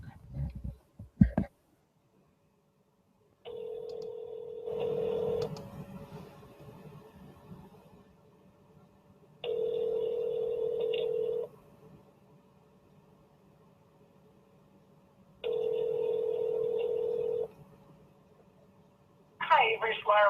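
A phone call being placed: quick dialing clicks, then a steady ringback tone sounds in three long evenly spaced bursts with silence between, loud and close over faint line hiss.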